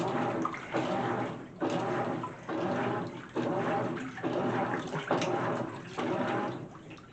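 Water rushes and splashes steadily inside a GE washing machine during the rinse of a normal cycle, in rhythmic surges every second or so as the drum agitates, close and continuous with no talk.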